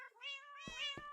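Cat meowing in the Minecraft video game: a fairly faint, rising then falling meow followed by a second short mew, close and clear with no talk.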